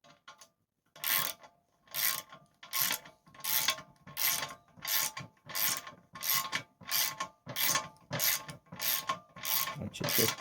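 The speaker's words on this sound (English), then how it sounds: "ratchets here with deep sockets on it, and just tighten those up" Ratchet fitted with a deep socket tightening bolts while installing ZRX swingarm bearings, about a dozen evenly spaced, close bursts of rapid pawl clicking, each stroke separated by a brief pause.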